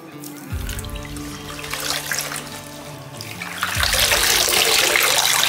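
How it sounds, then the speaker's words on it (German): Water runs and sloshes steadily as hot water fills a tub for hand-washing laundry, growing louder and fuller partway through with no talking. "dann kommt jetzt die gut riechende Wäsche da rein"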